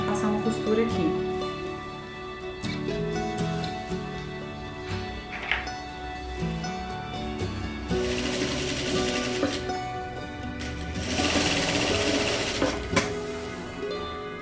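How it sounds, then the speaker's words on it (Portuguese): A sewing machine runs steadily in an atelier, stitching a seam on a circle skirt, with a continuous mechanical whir and brief bursts of faster stitching throughout. "Nós vamos pra máquina passar uma costura aqui."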